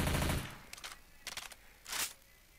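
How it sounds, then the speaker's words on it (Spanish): Uzi submachine gun in Left 4 Dead 2, fired in three short, separate bursts of rapid shots, fairly faint, after a louder noisy opening. "Esta es la otra ametralladora que vendría a ser la que sería la Uzi originalmente."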